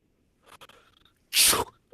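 A man's sneeze, a single loud, sharp burst that stands alone after some faint earlier sounds.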